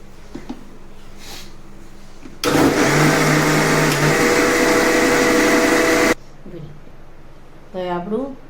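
A kitchen blender crushes a chikoo and chocolate thickshake with chocolate syrup, running loud and steady for about four seconds and then cutting off abruptly, with a person talking before and after.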